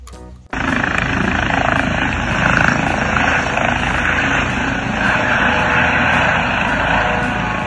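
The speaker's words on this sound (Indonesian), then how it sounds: "Ada helikopter" A loud, steady helicopter drone with chopping rotor noise starts abruptly after a brief moment and continues without letup.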